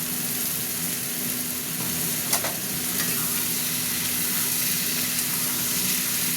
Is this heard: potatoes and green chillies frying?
yes